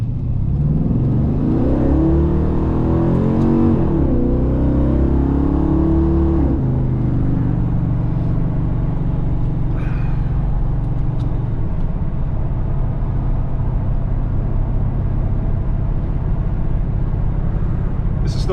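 A Pontiac car engine pulls under acceleration while driving, a steady loud low rumble with a rising rev sweep in the first seconds, then cruising drone as someone talks over it.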